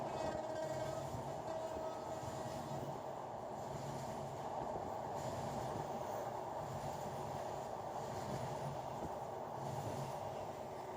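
A passenger train travelling between Kashiani Junction and Kamalapur railway station in Bangladesh, heard from inside a carriage: a steady, loud rumble of wheels on rails with continuous rattling runs throughout.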